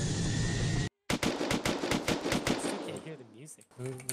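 Rapid automatic gunfire rattles in a survival shooter game, a burst of evenly spaced sharp shots after a brief silence, then tapering into quieter game sounds with a faint tonal effect.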